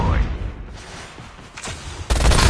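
Gunfire in a multiplayer battle game, a burst of shots and a loud blast near the end, heard over dense in-game noise.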